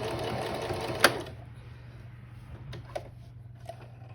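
A sewing machine stitches a small square pocket for a face mask nose wire, a loud whirring burst up front that stops with a sharp click, then quiet handling clicks.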